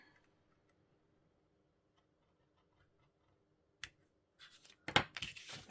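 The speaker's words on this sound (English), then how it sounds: "I'm going to take my scalpel and cut it a little bit longer" A craft scalpel cuts through card. After a quiet stretch, a few short, crisp scratching cuts and clicks sound close by near the end.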